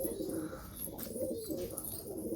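Tumbler pigeons in a coop giving low, rolling coos that repeat steadily throughout, close by, with a soft rustle in the background.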